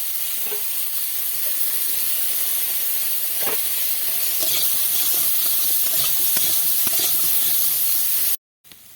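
Sliced green chilli and crushed ginger fry in a pan of oil, a steady close hiss and sizzle running throughout with occasional light scrapes of a spatula, cutting off abruptly near the end.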